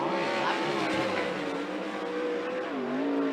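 A 360 sprint car laps Skagit Speedway during hot laps and qualifying, its engine howling loudly and steadily with rising and falling pitch as it works around the track, with no talking.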